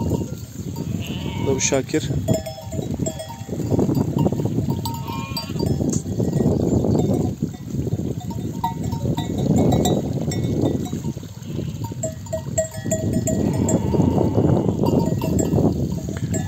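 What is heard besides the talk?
sheep bleating with bells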